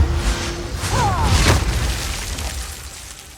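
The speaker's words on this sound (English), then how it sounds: "to the explosion of an ice comet" Ice comet spell exploding in the video game Path of Exile 2, a heavy boom with a whooshing, crackling burst that rises then slowly fades into a rumbling tail, loud and close.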